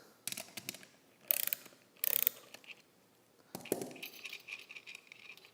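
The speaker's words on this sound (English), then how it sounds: "Using a 3/4 inch wrench, I'm going to loosen the retaining nuts." A 3/4 inch wrench loosens the retaining nuts on a signal hub assembly, giving several short bursts of metallic ratcheting clicks separated by quiet gaps, close up and with no speech.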